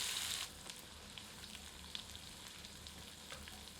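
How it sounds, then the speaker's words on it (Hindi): Onions sizzle and crackle in a hot copper lagan for chicken curry, a soft continuous frying hiss with small pops, fairly quiet and without any talking. "प्याज को तब तक भूनते हैं जब तक कि प्याज सुनहरी नहीं हो जाती"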